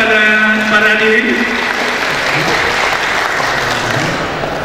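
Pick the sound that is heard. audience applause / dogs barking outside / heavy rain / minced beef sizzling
audience applause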